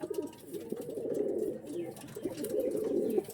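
Pigeons coo close by in repeated throaty, rolling phrases that run almost continuously, with short pauses between them.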